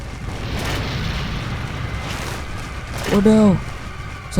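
Grenade blast in Resident Evil 4, a muffled rumbling boom building through the clip, with a voice briefly cutting in near the end.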